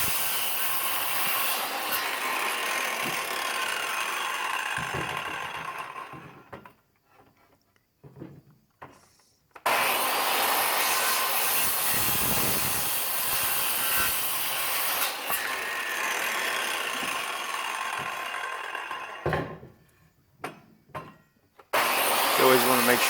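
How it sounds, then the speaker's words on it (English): A power saw cuts 2x3 lumber boards to length in long, loud buzzing passes, with brief pauses between cuts. "measure out the lengths of the board that we need and then cut everything to length"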